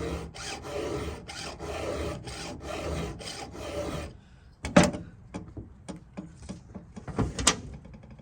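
A chainsaw chain is sharpened by hand with a file. About a dozen steady, rhythmic rasping strokes play close up, followed by scattered clicks and small knocks as the work pauses.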